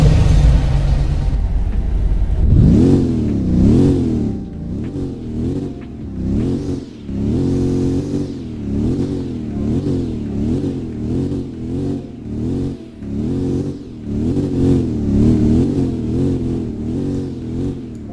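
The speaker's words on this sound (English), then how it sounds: "Let's go ahead and hear the engine real quick, though" A supercharged, heavily modified military-grade Hummer in a Roblox game starts with a low idle, then revs hard over and over, roughly a dozen rising and falling engine surges in a steady rhythm, loud and close with no talking.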